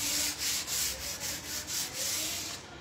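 Rhythmic hand sanding on a damaged, chipped wooden bedroom furniture surface, a steady back-and-forth scratchy rasp repeating about every third of a second, close and fairly loud, then stopping.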